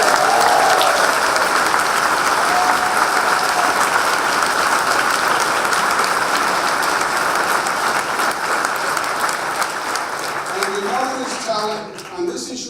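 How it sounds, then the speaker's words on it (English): A rally audience breaks into sustained, dense applause that stays loud for most of the stretch, then thins out toward the end into scattered individual claps, with no voices over it. "let's give her a round of applause"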